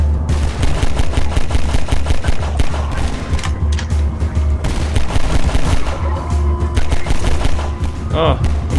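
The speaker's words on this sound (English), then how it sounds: "getting shot at from both directions" Half-Life 2 firefight along a canal: dense, continuous rapid gunfire and bursts, loud and close, with a brief higher whine near the end.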